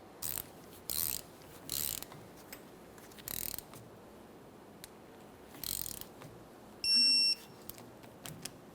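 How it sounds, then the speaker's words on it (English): Short ratcheting clicks from a torque wrench tightening a brake hose banjo bolt on a 2004-2008 Ford F-150, sounding in several separate bursts with quiet gaps, followed by one brief electronic beep. "we're going to bottom it out and torque it to 26 foot-pounds"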